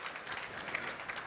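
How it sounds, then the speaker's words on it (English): Audience applause at the close of an aeronautics industry roundtable panel, a dense steady wash of many hands clapping at moderate volume with no voices over it. "a big applause for the speakers"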